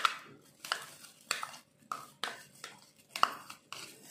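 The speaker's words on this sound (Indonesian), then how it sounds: "kita aduk sampai tercampur" A spoon scrapes and knocks against a pan while an anchovy and grated coconut mixture with petai cina is stirred, giving soft, regular clinks about twice a second, close and quiet.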